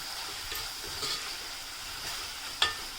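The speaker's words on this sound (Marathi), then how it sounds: "कांदा आपल्याला मध्ये मध्ये अलटीपलटी करून घ्यायचा आहे" Salted onions fry in a pan for a spicy-sweet Agri Koli wedding relish, giving a continuous close hiss with soft stirring scrapes and one sharper utensil clack near the end.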